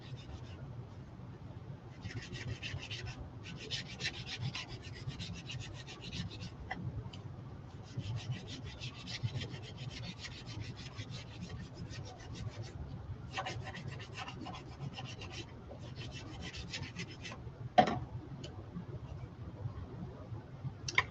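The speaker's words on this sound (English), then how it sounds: "I'm just going to scuff this side up a little bit." A journal tag's surface is scuffed by hand before UV resin goes on, making close, dry scratching and rasping strokes in repeated bursts. Occasional clicks mix in, and a voice speaks softly at times.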